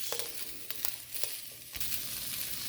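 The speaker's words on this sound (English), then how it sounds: "I'm gonna sweat them out and give them a nice char" Green peppers and onions sizzle and char in a hot pan for Chinese takeout-style pepper beef, a close steady hiss broken by scraping stirs and a clatter as the vegetables are moved, with no talking.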